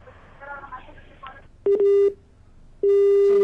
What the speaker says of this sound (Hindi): विश्वजीत जी का संपर्क टूट चुका है